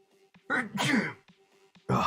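A single sharp sneeze bursts out, followed after a pause by the start of a second one, close and loud.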